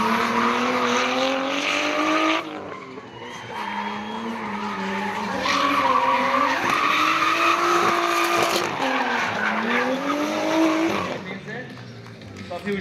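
A drift car's tires skid and squeal through a corner during qualifying at a 2011 Timisoara drift championship, the engine revving loudly with pitch sweeps while a commentator talks over it.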